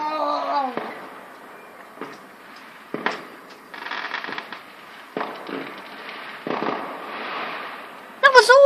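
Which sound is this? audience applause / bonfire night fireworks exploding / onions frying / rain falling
bonfire night fireworks exploding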